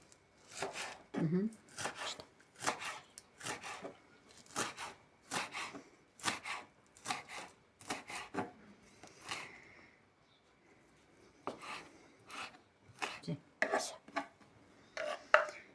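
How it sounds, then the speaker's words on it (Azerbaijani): A knife chops onions and herbs rapidly against a cutting board in repeated bursts of quick strokes, with brief pauses between rounds; close and fairly clear. "Kəvərləri, soğanı, bütün göylərin hamısını doğradım."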